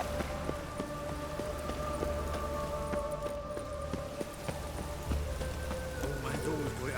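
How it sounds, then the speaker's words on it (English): Steady rain falls in The Witcher 3: Wild Hunt, a dense continuous patter with scattered drop ticks, while game music tones and occasional hoof-like clops sit underneath throughout. "Looked like it would rain, and here it is."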